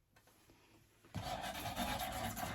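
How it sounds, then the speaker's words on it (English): Quiet background gives way to a close, steady scratchy rubbing of sandpaper on a wooden chair, continuing to the end. "I'm gonna be sanding."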